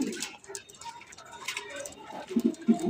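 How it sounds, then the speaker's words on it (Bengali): Racer pigeons coo softly in short low bursts near the end, with someone talking over them and other small ticking sounds around. "আরো এক জোড়া রেসার কবুতর। এটা হচ্ছে সুপার মিলি রেসার কবুতর।"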